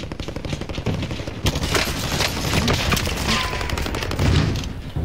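Rapid automatic gunfire in the shooter game Warzone, a dense continuous barrage of loud bursts and booms filling the whole stretch, close and intense.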